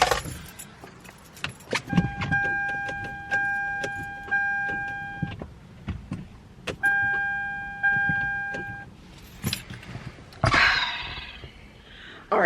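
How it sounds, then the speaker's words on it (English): Keys jangle and a car's electronic warning chime beeps in two steady runs. Near the end the engine briefly cranks in a short, loud, rough burst as it tries to start. "let's see if the car wants to start"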